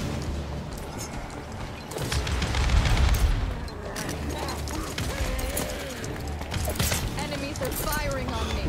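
Gunfire and ability blasts in a Paladins survival mode match, repeated sharp shots and booms scattered through the stretch at mid loudness, under ongoing talk from a player.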